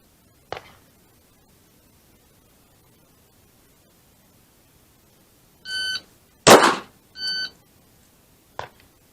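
A single pistol shot cracks out, then twice an electronic shot timer beeps its go signal and each beep is followed within a second by a sharp, loud handgun shot at close range.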